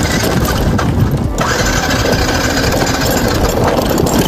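A motorbike engine on a mountain road in the Dhorpatan area, running loud and close with a rough, steady idle-like drone and no clear starting burst.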